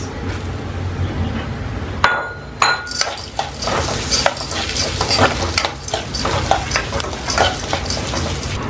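Green chillies fry in a pan over a medium-low gas flame, a loud steady sizzle broken by sharp spoon scrapes and clinks against the metal.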